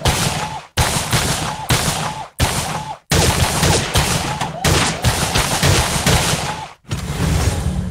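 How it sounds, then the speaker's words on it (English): A WWII grease gun fires in the VR game Gun Club VR, rattling out several long automatic bursts separated by brief pauses, loud and close. "I love how I'm playing modern, you know, an old World War II grease gun"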